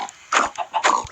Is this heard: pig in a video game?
yes